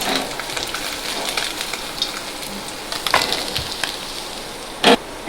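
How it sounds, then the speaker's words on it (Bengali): Small tangra fish fry in a pan of oil with a soft continuous crackle, a few sharper pops and a brief loud spatter near the end. "দেখুন মাছগুলো সব ভাজা হয়ে গেছে লাল লাল করে, আমি এখন তুলে নেব এগুলোকে।"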